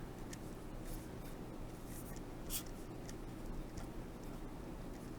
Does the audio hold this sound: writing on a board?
yes